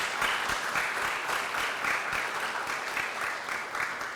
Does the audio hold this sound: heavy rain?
no